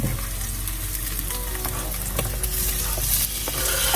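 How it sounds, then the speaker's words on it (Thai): Chili and garlic stir-fry in olive oil with fish sauce, giving a loud, dense, continuous sizzle close by with occasional stirring clicks and no talk. "ผัดพริกกับกระเทียมก่อนนะคะ กระเทียมเหลืองแล้วก็พริกใส่น้ำปลาลงนะ"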